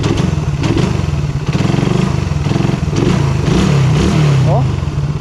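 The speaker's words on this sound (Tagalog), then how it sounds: "umaandar pa, tumatakbo pa, ang ganda pa ng takbo, ang ganda pa ng tining ng makina nyo" A carbureted Suzuki Raider 150 motorcycle engine runs steadily with an even idle and a throbbing low rumble, and someone talks over it.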